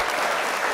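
Applause from an audience celebrating Xbox news fills the moment with steady, dense clapping, loud and continuous throughout with no voices above it.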